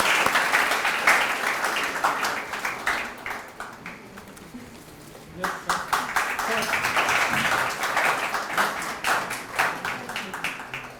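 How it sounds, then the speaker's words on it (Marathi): An audience at the Tilak Maharashtra Vidyapeeth and Lokmanya Tilak Law College lecture gives a strong, steady round of clapping to welcome Arvind Gokhale as flowers and gifts are presented. The applause sounds dense and continuous, with a brief dip midway before it swells again. "जोरदार टाळ्या झाल्या पाहिजे।"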